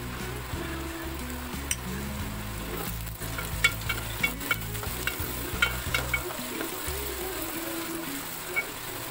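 Onion, ginger, garlic and green chilli sauté in hot oil, a continuous close sizzle broken by rhythmic scraping stirs of a spoon against the pan and a few light clinks, with no talking.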